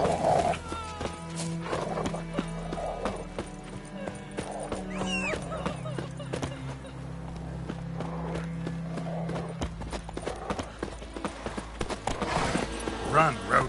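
A horse in the video game The Witcher 3 Wild Hunt, with hoof clip-clops and a neigh over game music and ambience, while voices talk throughout.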